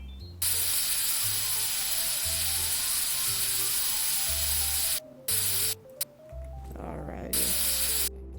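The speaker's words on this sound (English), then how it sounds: "Afterward, I was able to spray paint the car." Spray painting a car in a budget car repair video game: a steady hiss of spray that runs for about five seconds, cuts out briefly, then resumes, with a low rhythmic game music loop underneath.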